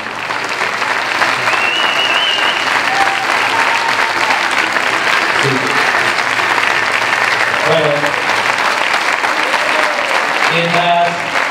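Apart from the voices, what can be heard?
theatre audience applauding the company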